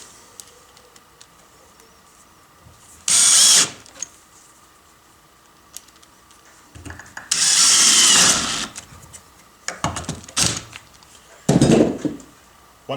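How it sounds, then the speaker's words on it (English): A power drill whirs in three separate bursts, each a few seconds long, with quiet pauses between, drilling holes for floating shelf mounting hardware. "Once we drill our hole here,"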